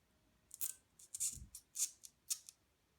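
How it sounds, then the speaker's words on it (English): An X-Acto knife trims holes out of roof rack material for a Jeep Wrangler JK install, a run of short, crisp cutting and snipping strokes in irregular bursts, close and fairly quiet. "So I'm just going to take this X-Acto knife and trim the holes out."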